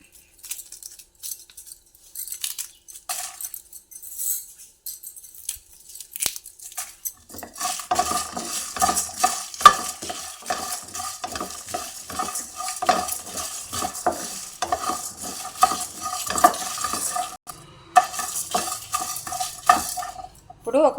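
Dried red chillies sizzling and frying in a pan for bitter gourd curry, a steady crackle that starts after a quiet opening, with repeated scrapes and clinks of a spoon stirring against the pan, close by and alone.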